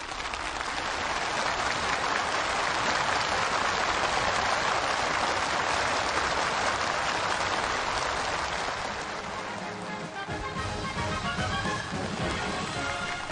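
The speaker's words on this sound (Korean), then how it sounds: "전체 참가자들이 덧쳐올리는 열렬한 박수갈채가 준공식장을 진감하는 속에" Participants at a factory completion ceremony applaud enthusiastically, a thick, sustained wall of crowd clapping that holds loud and steady throughout, easing slightly near the end.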